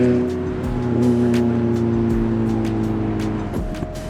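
A car passes close by at a car auction, its engine growling loudly and then fading as it moves away, ending with a short rumble of another engine nearby.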